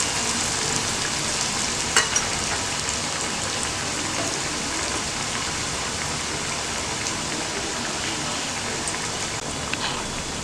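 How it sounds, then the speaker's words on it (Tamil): Spinach (keerai) tikka frying in a pan over a medium flame gives a steady, close hiss of oil that runs unbroken, like light rain, with one faint click near the start. "இப்போ இதையும் ஃப்ரை பண்ணிக்கலாம்."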